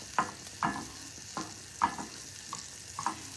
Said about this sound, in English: I'm gonna saute those onions.